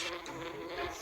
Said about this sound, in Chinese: 那蜜蜂很厉害呢